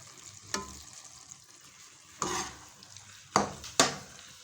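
Beef keema frying with masala in a pan for a karahi, a low steady sizzle broken by four sharp scraping stirs of a spoon against the metal.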